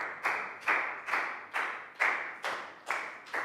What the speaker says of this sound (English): Big round of applause for Prel.